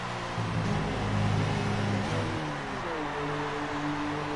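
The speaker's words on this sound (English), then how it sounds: "This car just dies." Red Bull Formula 1 car engine in the F1 2019 video game at the China Grand Prix, struggling and dying: a steady mechanical drone whose pitch wavers and sags, then falls away midway, with no talk.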